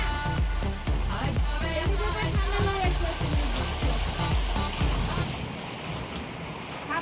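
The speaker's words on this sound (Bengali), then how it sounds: "আমাদের এখানে বৃষ্টি হচ্ছে প্রচুর" Heavy rain mixed with hail pours down in a loud, dense, continuous roar, with a rapid drumming patter of impacts that eases slightly near the end.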